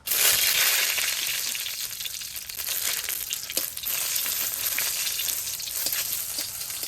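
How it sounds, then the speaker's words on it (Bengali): Dried chilies hit hot mustard oil in a heated kadai and burst into a loud, close sizzle. The hiss stays dense and crackling throughout, with faint stirring crunches underneath and no voices. "এখন সরষের তেল দিয়ে শুকনো মরিচ ভাজা নেব।"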